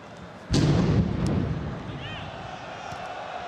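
A sudden deep, booming bomb blast rings out over a stadium crowd's roar during a football match, followed by a long rumbling decay as the crowd noise carries on.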